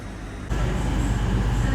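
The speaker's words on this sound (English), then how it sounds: "that's the train ride from Wakefield to Doncaster." Steady rumbling interior noise of a passenger train running from Wakefield to Doncaster, a low continuous roar that jumps louder about half a second in and then holds level.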